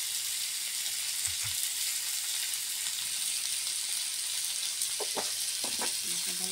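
Spices such as lentil powder and turmeric sizzle steadily in a hot pan, a dense broadband hiss with a few soft stirring clinks near the end.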